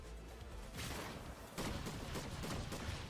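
Chaos Reloader shotgun fire in Fortnite, a burst of gunfire hitting around 0.8 seconds and again near 1.6 seconds, with a rapid, dense volley sustained through the rest of the moment.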